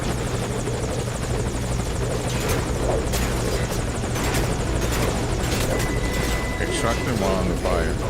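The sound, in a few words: helicopter in a stealth video game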